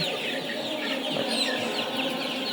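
A flock of 37-day-old Sonali hybrid chickens clucks continuously, a busy overlapping chatter of many birds with no one speaking.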